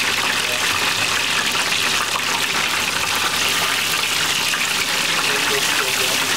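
Steady bubbling and gushing of hot liquid at an outdoor weekly market stall in Berlin frying Austrian veal escalope, a continuous close fizz with murmured background voices.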